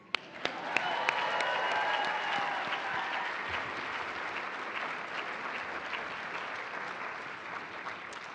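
An audience at a NASA astronaut graduation ceremony applauds. The applause swells from a few sharp early claps into a steady, full round that continues evenly throughout at moderate volume.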